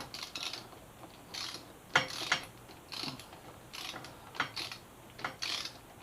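Ratcheting wrench on 12mm caliper bolts at the front end of a Yamaha FZ6R, heard as repeated short bursts of clicking pawl and metal mechanism sounds, fairly faint and close, with no talk.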